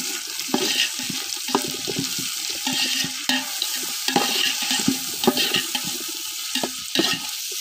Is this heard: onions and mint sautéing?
yes